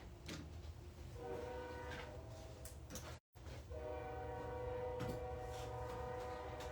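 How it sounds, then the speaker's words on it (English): A passing train rumbles steadily outdoors near a stamping class setup, with low rolling noise, horn-like tonal bands and faint rail clatter, fairly distant and continuous, with a very brief dropout midway. "We'll wait just a second for that train to go by"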